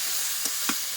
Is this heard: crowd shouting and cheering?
no